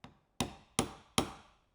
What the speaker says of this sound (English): what I'm going to do is give it a few good hits and see how far the hoop drops